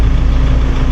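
A car engine idles with an uneven tapping knock attributed to a faulty injector, a steady close rumble with rough, irregular pulsing throughout.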